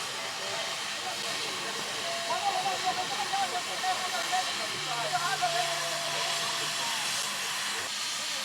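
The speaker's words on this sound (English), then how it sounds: "The exhaust from these powers the larger low-pressure cylinders for the front set of driving wheels." Steady hiss and chuffing exhaust from a Mallet compound steam locomotive on an Eritrean railway, a soft continuous roar with faint rhythmic beats at moderate distance, and a voice talks over it.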